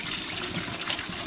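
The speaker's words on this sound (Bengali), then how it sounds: "আমি এবার ডাবের জলটা ঢেলে একটা জায়গায় রেখে দেব।" Green coconut water poured into a container, a steady close trickling and splashing of liquid with no talk.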